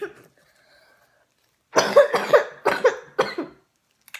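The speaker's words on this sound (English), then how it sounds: "Sorry, I have this cough." Several harsh coughs in a quick burst, close and fairly loud, following a brief moment of quiet.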